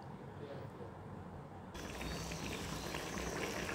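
Curry with water simmering in a pan for a spicy okra dish, a steady low bubbling and hiss that grows slightly louder partway through, close by with no talk.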